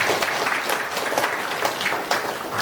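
An audience at a parenting seminar gives a short round of applause for returning alumni, a steady patter of many hands clapping at moderate volume without a break.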